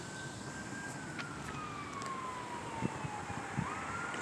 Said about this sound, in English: a lot of sirens here today.